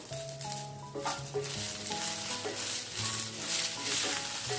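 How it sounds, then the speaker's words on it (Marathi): Fresh coriander stirred and fried into mutton masala gravy, a steady close sizzle with spatula scraping under soft background music, no talk. "आता ह्याच्यामध्ये आपण कोथिंबीर टाकून घेऊया."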